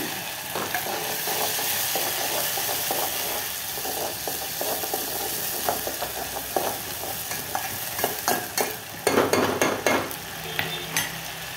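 A spice paste for gravy fries in a pan, with sambar masala going in. Soft continuous sizzling carries repeated stirring scrapes, growing busier and louder near the end.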